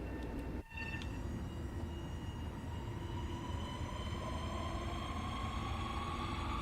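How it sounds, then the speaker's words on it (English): An M7 commuter train on the Long Island Rail Road pulls in alongside in Train Sim World 4, a steady loud rumble of rolling cars with sustained tonal whine, heard close and alone throughout. "There's an M7 pulling in next to us"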